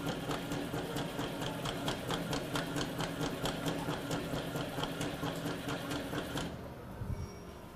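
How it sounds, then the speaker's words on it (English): Acid pump priming on a Girton portable CIP system running on 208-volt three-phase power, a rapid steady mechanical clatter with a continuous hum that cuts off abruptly near the end. "First, I'll demonstrate and prime the acid pump."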